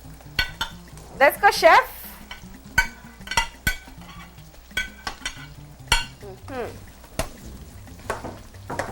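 Luncheon meat and vegetables are stir-fried in a pan for fried rice, with a spoon or spatula scraping and clanking irregularly against the pan over a low sizzle, while a person speaks briefly.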